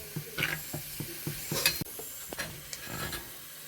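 Curry leaves fry in hot oil in a pan for rambutan pickle, stirred with a spoon until brown; a steady sizzle runs under repeated close scraping and clinking strokes, with no voices.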